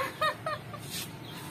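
A small duckling gives a few short, bright peeping calls near a basin in a rural Vietnamese yard, close by, over a low steady background hum.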